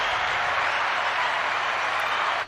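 Audience clapping during a comedy talk show discussion, a dense, steady burst of applause filling the room at close range for a couple of seconds before cutting off, with no voices over it.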